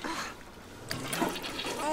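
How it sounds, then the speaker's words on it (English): A toilet flushes in The Sims 3, a short gurgling rush of water at moderate loudness with a voice faintly mixed in. "He had to flush it twice."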